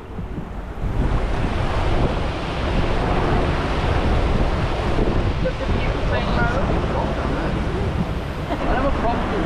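Swirling whirlpool water at an outdoor park in France, a steady loud rush of churning water with heavy wind buffeting the microphone.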